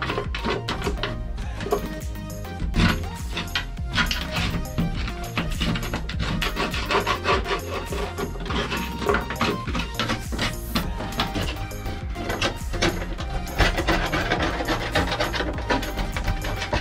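Interior trim and padding are pulled, torn and scraped from a 1965 Ford Mustang coupe during teardown, giving irregular close rustling, ripping and rubbing noises that continue without speech.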